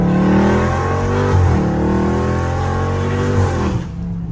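A Dodge Scat Pack driving at 1 a.m., its engine droning loud and close, swelling into revs and settling again, with a steady low rumble throughout.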